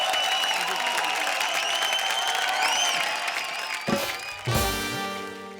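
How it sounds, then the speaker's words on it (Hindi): Studio audience applause at a Hindi comedy show, steady dense clapping that swells and carries on for several seconds, with a couple of louder bursts near the end. "जोरदार तालियां कविता और अली के लिए"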